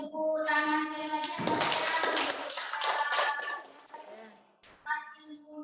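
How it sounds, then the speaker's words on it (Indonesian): A seminar audience at a parenting event claps for a couple of seconds in a dense burst of applause, with a voice speaking before and after. "kita beri tepuk tangan sekali lagi"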